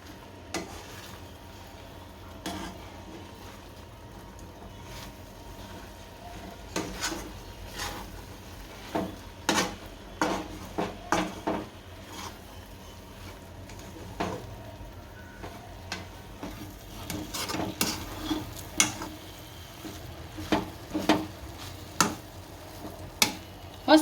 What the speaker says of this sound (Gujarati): અને હલાવ્યા કરવાનું, બેસી ન જાય, નકર નીચે બેસી જાય